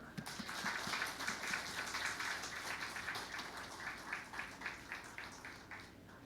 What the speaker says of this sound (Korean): 우리 감사의 박수, 격려의 박수 하겠습니다